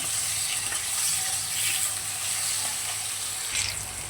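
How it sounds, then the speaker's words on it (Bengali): Potatoes fry in a pan with turmeric and salt, giving a steady, close sizzle that holds evenly throughout with no voices. "এবার আলুটাকে একটু হালকা লাল করে ভেজে নেব।"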